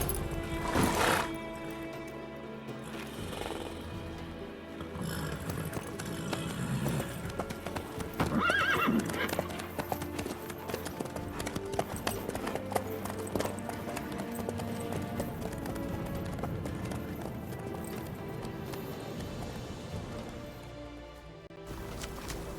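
A horse in the open-world game The Witcher 3 trots with steady clip-clop hoofbeats that carry through the whole stretch, broken by a clear neigh near the start and another whinny partway through, set against a soft musical and ambient bed.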